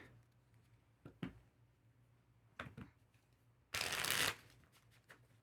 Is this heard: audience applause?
no